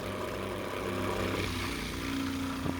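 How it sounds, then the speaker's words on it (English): A small water pump starts pushing water through a polytunnel auto-watering system, giving a steady low motor hum with a tonal drone that shifts partway through, ending in a brief click. "That sounds like water's pumping through the system."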